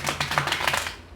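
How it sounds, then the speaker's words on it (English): Tarot cards are shuffled by hand in a quick run of soft riffling bursts, close and fairly quiet, fading out after about a second. "Three more shuffles."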